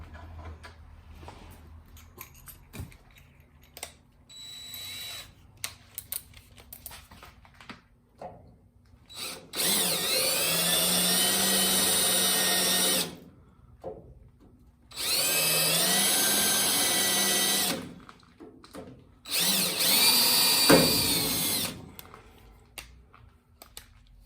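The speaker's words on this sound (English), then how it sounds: "So I'm just gonna try drilling those out." Three sustained bursts of a high-pitched power drill drilling out spot welds on an MG Midget inner sill, each a few seconds long, separated by quiet pauses with small clanks and handling noises.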